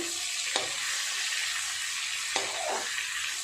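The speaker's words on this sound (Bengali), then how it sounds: "এই মাছগুলো ভাজা হয়ে গেছে, তুলে নেব।" Hilsa fish fries in hot oil with a constant, even sizzle, broken by two brief clinks of a utensil.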